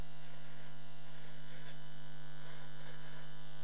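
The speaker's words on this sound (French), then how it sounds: "j'ai acheté un rasoir tout neuf" A brand-new electric razor shaving, giving a steady, continuous buzzing hum close to the microphone with slight fluctuations as it moves, and no voices.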